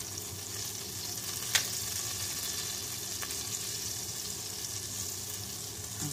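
Unsalted butter sizzles steadily in a hot pan before beef is sautéed for spaghetti, a continuous close hiss with one brief sharp click partway through.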